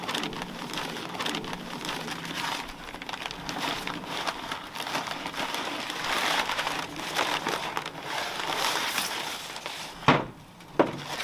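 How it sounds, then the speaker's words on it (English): Brown paper wrapping crinkles and rustles as it is pulled off a patina-finished plant pot, a steady close crackling that runs throughout, with a couple of sharper tears near the end. "So let's go ahead and unwrap this one"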